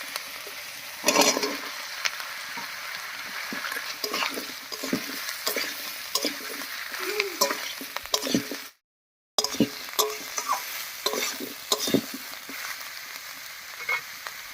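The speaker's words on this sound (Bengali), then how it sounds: "এবারে কেটে রাখা আলু আর বেগুনটা দেবো" Cut potato and eggplant fry in oil with browned onion paste, stirred steadily with a utensil, producing close crackling sizzle and wet scraping strokes with one brief silent gap.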